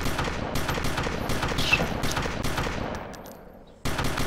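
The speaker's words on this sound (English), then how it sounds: "You're shooting with the shotgun." Shotgun fire in a first-person shooter video game: a dense run of loud, sharp blasts with a steady low rumble, tailing off briefly before another burst at the end.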